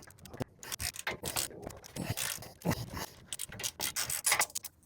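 A ratchet with a deep socket works a stubborn lock nut off the ball joint of a 2001 Dodge Ram 1500, giving repeated rapid clicking strokes in uneven bursts, close and clear with no talk.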